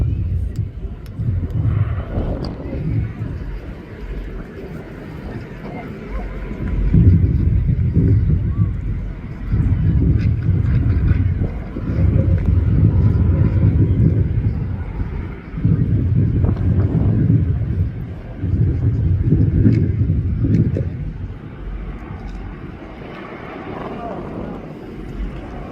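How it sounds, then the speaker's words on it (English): A Joby S4 eVTOL electric aircraft flies past at an airshow, its low whirring rotor drone swelling and fading in repeated surges, moderately close, with wind noise and a narrator talking over it. "Now the pilot is accelerating away from us, descending back to 500 feet and repositioning for another pass."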